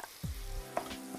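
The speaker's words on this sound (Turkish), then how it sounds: "Qıyma da soğanla bir yerdə gözəl bir şəkildə burada qovrulsun." Minced meat and chopped onion sizzle softly in a pan, a quiet steady frying hiss broken by a few light scrapes and stirs, with no one talking.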